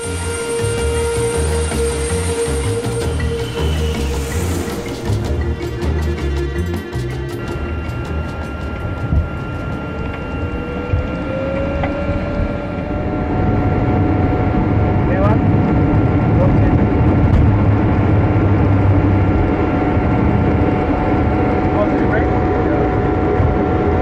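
Steady loud cockpit roar of a 46-year-old DC-9 airliner in flight on the leg to Nairobi, broadband engine and airflow noise with faint tonal whines, continuous throughout and growing slightly louder midway.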